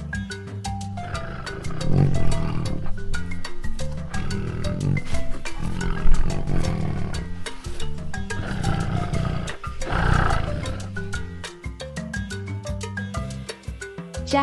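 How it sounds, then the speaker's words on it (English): A lion roars loudly in repeated bursts over about fourteen seconds, set against a dense, busy background that may include music. "Lion."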